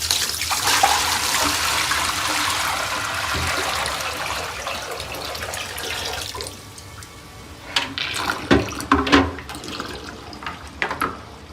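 Water collected in a dehumidifier tank gushes and splashes steadily for several seconds as it is poured out, then tapers into scattered drips and small clattering sounds.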